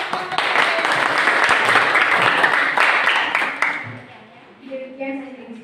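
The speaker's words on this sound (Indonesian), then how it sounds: "Oke, tepuk tangan untuk kelompok." Group applause in an Indonesian classroom lesson, a steady burst of many hands clapping that fills the first few seconds and fades out near the four-second mark, with a few voices following.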